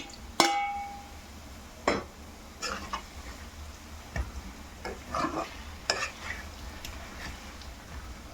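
Sandwa sea fish is tipped into onion gravy in a pan and stirred, with a sharp metallic clank at the start followed by irregular scraping strokes and a soft sizzle underneath.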